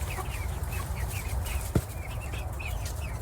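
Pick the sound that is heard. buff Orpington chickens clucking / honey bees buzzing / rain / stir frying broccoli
buff Orpington chickens clucking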